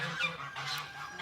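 A 16-year-old female emu at an animal sanctuary gives low, hoarse honking grunts in a short series, close by but fairly quiet, with no speech.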